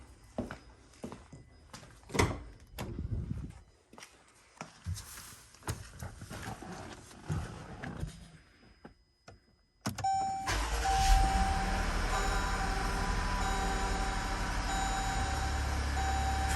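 Clicks and door or cabin clunks come first, then a Pentastar V6 in a 2022 vehicle fires in a cold start with a sharp burst and settles into a steady, elevated idle with a faint chime tone.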